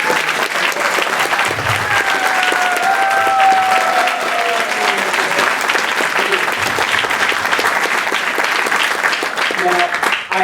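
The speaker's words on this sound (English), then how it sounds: "let's give one more round of applause for Governor Abbott." Sustained applause from a convention audience honoring Texas Governor Abbott at a Young Conservatives of Texas state convention in Dallas, loud, dense clapping continuing steadily for about ten seconds with crowd noise mixed in.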